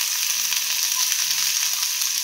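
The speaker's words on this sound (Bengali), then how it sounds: "প্রথমে আমি তেল দিয়ে একটুখানি পেঁয়াজ দিয়ে দিলাম" Onion pieces fry in a small amount of hot oil, giving a steady, close sizzle with a soft crackling hiss that holds level throughout.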